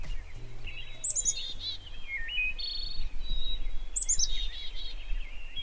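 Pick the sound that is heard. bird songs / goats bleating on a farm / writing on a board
bird songs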